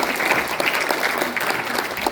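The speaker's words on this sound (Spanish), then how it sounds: "Fuertes aplausos para Dios." A church congregation applauds in a dense, lively burst of clapping that stays steady and fairly loud for the whole moment, with faint crowd murmur mixed in.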